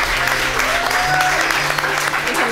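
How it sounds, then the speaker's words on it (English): Steady clapping from a studio audience on a dating show set, continuous and fairly loud, with faint voices and some tonal sound mixed underneath. "Let's clap for them."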